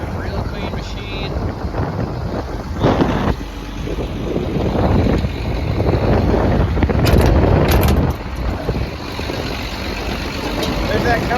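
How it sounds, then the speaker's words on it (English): A 6.7 liter Cummins diesel running on a 2016 XCMG 210 hydraulic excavator, a steady rumbling idle heard outdoors under wind buffeting on the microphone, with someone talking over it. "There's that Cummins diesel."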